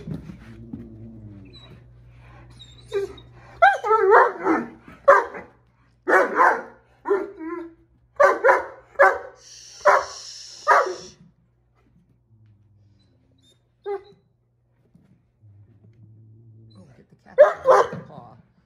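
A Great Dane puppy lets out a series of sharp, close barks and yips while playing with a cat indoors, with people talking softly at the start and end.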